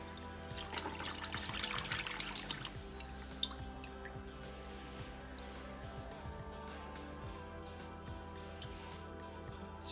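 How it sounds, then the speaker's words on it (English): Water trickles and drips steadily from a tap while aquarium plant roots are rinsed clean of tissue culture, busier at first and then settling into a quiet, continuous faint flow. "So I'll just wash the roots off, get that tissue culture off."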